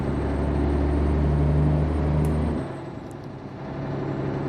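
A Mack R truck with a V8 hauls a lumber load in American Truck Simulator. The engine drones loud and steady, then cuts off abruptly, leaving a quieter low rumble with faint hissing.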